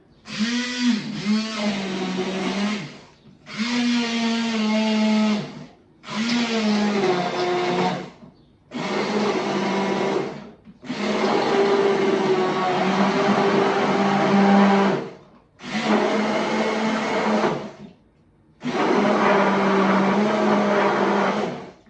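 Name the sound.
blender blending smoothie ingredients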